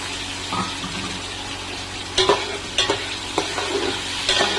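Cashews fry lightly in a pan for Basanti pulao, a steady sizzle broken by several sharp scrapes and clinks of stirring.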